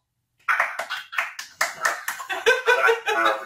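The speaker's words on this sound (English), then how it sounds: "Round of applause." A small group claps through a round of applause on a ham radio contesting podcast, starting after a brief silence with uneven, close claps that build into steady clapping.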